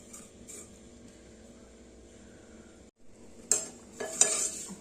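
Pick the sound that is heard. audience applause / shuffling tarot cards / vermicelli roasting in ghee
vermicelli roasting in ghee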